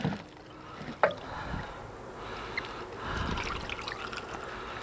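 Water running into a yellow bucket while cleaning a removed car DPF, a steady near gurgling trickle with a few brief knocks, alone with no talk.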